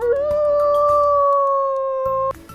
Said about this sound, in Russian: выть